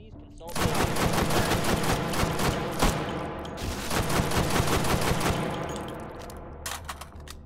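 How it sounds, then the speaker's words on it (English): An advanced shotgun firing swarm rounds in the VR game Hot Dogs, Horseshoes & Hand Grenades, a rapid close burst of sharp shots in two long volleys, with a brief voice near the end. "Basically a very advanced shotgun."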